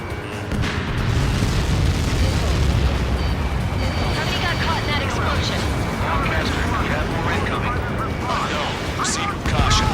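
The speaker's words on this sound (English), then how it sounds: "How many got caught in that explosion?" A massive explosion in the video game Ace Combat 7 roars and rumbles on for several seconds, dense and loud, with crackling debris bursts scattered through it.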